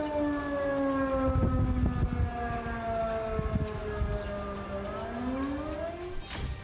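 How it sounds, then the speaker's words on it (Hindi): A wailing air raid siren in Ukraine rises and falls steadily throughout, with rumbling background noise and a brief high whine near the end. "इलाके में लगातार हवाई हमले के खतरे का सायरन बजाया जा रहा है।"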